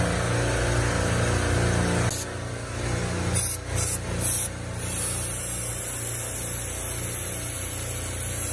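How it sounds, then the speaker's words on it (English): Degreaser sprays steadily through a tube during an engine oil-passage cleaning, a continuous hiss that drops briefly and sputters in short bursts midway before resuming alone. "Right now it's spraying degreaser through this tube right here to make sure we got this all free and clear so the oil flows correctly"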